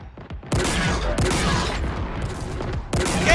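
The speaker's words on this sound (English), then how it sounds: "Game is really using anti-air gun." In Halo Infinite, an anti-air gun fires several heavy, booming rounds in quick succession, each blast loud and close with a rumbling tail, in a custom match.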